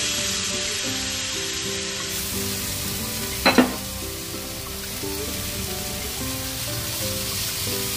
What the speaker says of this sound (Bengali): তো এখন তাওয়ার মধ্যে এগুলো একটা একটা করে একটু ছেঁকে নেব